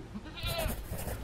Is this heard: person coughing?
no